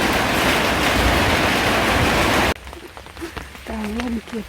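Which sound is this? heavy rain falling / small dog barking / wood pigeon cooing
heavy rain falling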